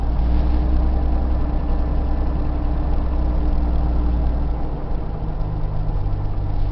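A 1979 Chevrolet Camaro engine idles roughly after a cold start, a loud, close, steady low rumble that dips slightly partway through, with no talking.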